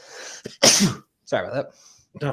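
A single sharp sneeze bursts out, loud and close, between stretches of someone talking, who goes on speaking briefly right after it.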